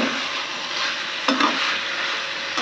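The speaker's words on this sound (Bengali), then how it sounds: "তাই ভাবলাম যে একটু ভালো করে পেঁয়াজটা একটু ভেজে নিই, লাল করে ভেজে নিয়ে কষে ভালো করে করবো" Onions frying in a pan, browning for a red chicken curry: a continuous loud hiss of sizzling oil with a couple of soft stirring scrapes, close up, no voices.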